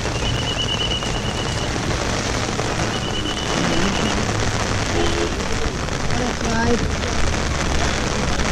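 Steady rain falls in an outdoor setting at Bhimashankar temple in Maharashtra on a foggy evening, a broad continuous hiss that stays even throughout, with faint voices and brief tonal sounds mixed in underneath.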